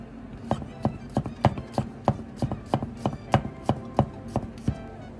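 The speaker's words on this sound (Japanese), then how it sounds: "ニンニクを半分に切り、ニンニクの芽を切ってニンニクをみじん切りにしていきます" Garlic is minced with a knife on a cutting board, giving a close, steady run of crisp chops in an even rhythm, each stroke sharp and distinct.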